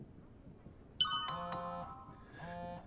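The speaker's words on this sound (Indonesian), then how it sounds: "Beberapa saat kemudian, HP Cenetnit pun berbunyi dan pesan yang dia tunggu-tunggu pun datang" A faint electronic chime plays a short melodic phrase, pauses, then repeats briefly, like a phone alert in a quiet room.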